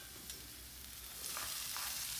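Onions and green chilies sautéing in coconut oil in a clay pan, a steady low sizzle with occasional stirring scrapes that grows slightly louder toward the end.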